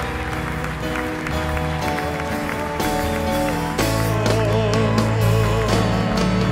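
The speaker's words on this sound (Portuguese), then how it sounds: "Aplauda o Senhor bem forte" A church congregation claps loudly for the Lord under sustained organ or keyboard music, a continuous wash of applause blended with the instruments throughout.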